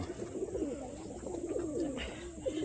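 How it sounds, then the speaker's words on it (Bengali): Soft, repeated cooing of pigeons, several overlapping low rolling calls close by, against a steady background hiss. "পায়রা সব কিন্তু কম বেশি ছেড়ে দিয়েছি, দেখে নিন, সব খাওয়ার জন্য ব্যস্ত"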